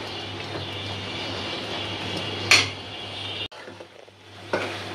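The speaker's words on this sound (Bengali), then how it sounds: "সুন্দর করে পটলটা কষা হলো" Pointed gourd and tomato sautéing in a pan for a big catfish curry, with a spoon scraping and clinking against the metal over a steady low hum, one sharp scrape standing out midway, no voices.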